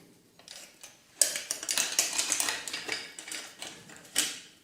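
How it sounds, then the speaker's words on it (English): Bottom bracket bearings on a wrecked vintage Cannondale bicycle, cranks spun by hand with the chain removed; a close run of light metallic ticking and clicking rises and fades in bursts, with no talk. "And now I can spin the cranks and see and hear how are the bearings."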